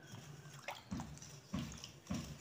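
Soaked ash gourd is washed by hand in a basin of water, with three or four distinct sloshing splashes at regular intervals amid faint trickling.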